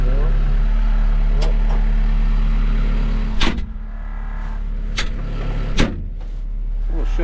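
A D51 bulldozer's engine drones at a low steady idle while its blade is raised by a control handle, with several loud mechanical clunks and clicks breaking through.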